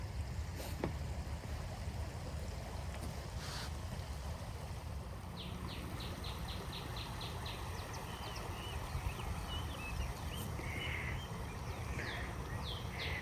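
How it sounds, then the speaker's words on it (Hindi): Flowing water in a cold outdoor setting, a steady broadband wash that runs throughout, with faint chirping sounds partway through. "यहाँ पे पानी की बहुत खूबसूरत साउंड आने वाला वो आप सुन पाओ"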